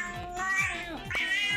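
A cat meows in a video game, two or three clear rising meows at close range over faint game background sounds, with no talking.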